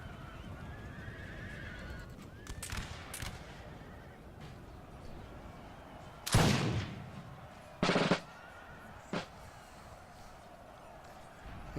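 Cavalry horses in a Napoleon Total War 3 battle whinny and clatter across a low battlefield rumble, with a few sharp shot-like bursts standing out loudly amid the charge.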